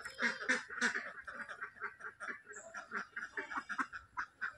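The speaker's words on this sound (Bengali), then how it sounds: "জলে কিছু হাঁস চড়ছে" Ducks on a garden pond let out a run of soft, repeated quacks in quick, uneven bursts, heard faintly at a distance.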